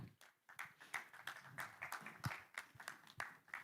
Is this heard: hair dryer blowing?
no